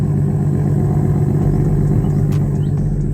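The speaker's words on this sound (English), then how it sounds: "This is not what my car sound like." A car engine idling close by, a low steady rumble with an even, unbroken hum throughout.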